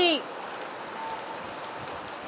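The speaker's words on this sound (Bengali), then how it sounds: "কি জোরে বৃষ্টি এত বৃষ্টি মনে হচ্ছে আজকে আর থামবে না" Heavy rain pouring down outside a home, a dense, even wash of rainfall heard close and steady from start to finish after a brief voice at the very beginning.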